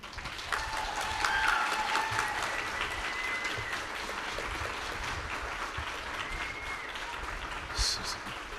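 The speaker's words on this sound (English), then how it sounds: "So we're gonna do a quick round of applause for all of the people that have been involved in making this happen." Applause from an audience at an electric bus celebration event, steady dense clapping from a crowd throughout, moderately distant, with brief voices and a few mechanical clicks mixed in.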